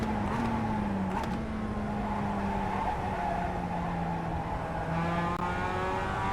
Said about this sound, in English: accelerate out. Second gear. Third.